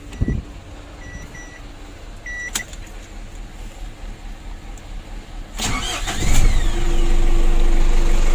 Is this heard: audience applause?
no